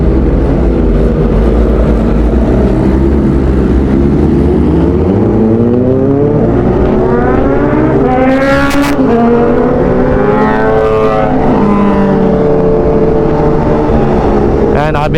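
A BMW engine revs hard and loud at close range in Tagaytay Highlands, its pitch sweeping up and down through repeated throttle blips over a constant heavy rumble.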